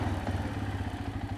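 A 2015 Arctic Cat 500 EFI 4x4 ATV engine runs steadily, giving a close, continuous low rumble with a slightly uneven idling pulse throughout.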